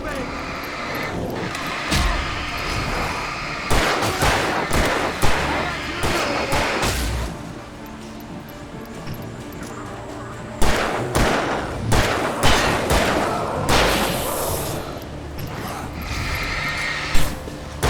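Repeated gunshots in the video game Alan Wake, sharp loud bangs fired in irregular bursts with short gaps, some shots clustered rapidly, over game background noise.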